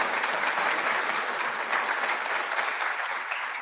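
Steady, dense applause from an assembled audience at a university fall convocation, sustained and even throughout with no voices over it.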